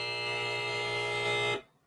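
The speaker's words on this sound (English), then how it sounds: "Can we get that buzzer sound real quick so people can recognize what it sounds like?" A loud, steady electronic buzzer drones continuously, signalling time to stop talking at a panel event, then cuts off sharply near the end.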